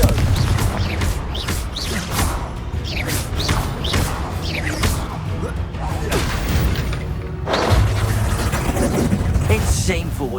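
A Confringo explosion spell from Hogwarts Legacy on PS5 goes off amid dense combat noise, with thumping blasts and crashing impacts layered over constant clatter, while voices shout throughout.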